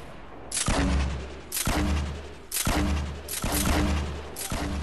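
Grenade launcher in Fortnite firing a rapid string of five heavy thumping booms, each a deep punchy blast with a sharp crack, evenly spaced and close, with no talk over them.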